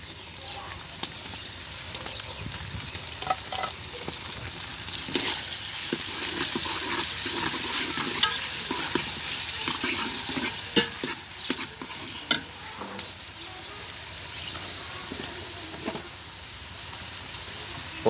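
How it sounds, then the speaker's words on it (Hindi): Green chilies and tomatoes fry in a pan for Lahori chickpeas, a continuous close sizzle and hiss with scattered scraping and clinking from stirring running throughout, steady and moderately loud. "अब हम इसमें डालेंगे सब्ज़ मिर्चें और टमाटर,"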